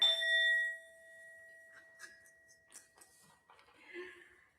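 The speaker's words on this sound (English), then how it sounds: "Almost time for a new bell. Singing bowl." A singing bowl struck once, a clear ringing tone with steady overtones that sustains briefly before fading, followed by soft scattered knocks and rustles nearby.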